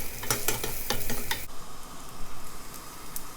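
Eggplant frying in olive oil in a pan, a bright steady sizzle with several scraping stir strokes early on, then a quieter, smoother hiss once the stirring stops.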